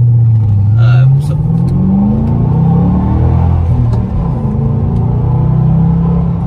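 A 2005 Saleen S281 Mustang engine rumbles loudly and builds revs at quarter throttle, a steady close-up drone rising in pitch early on, with people talking over it from inside the car.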